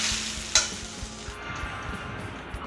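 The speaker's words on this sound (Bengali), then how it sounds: "তেল দিয়ে ভাজলে একটু অন্যরকম হয় শুকনো একটু ভাজছি" Food dry-fries in a hot pan without oil while a utensil stirs and scrapes, with one sharper clack near the start.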